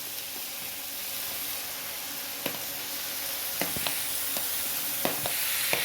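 Tomatoes sizzle in a hot pan with a steady, hissing fry noise, broken by a handful of light clicks and scrapes as they are stirred, close and moderately quiet.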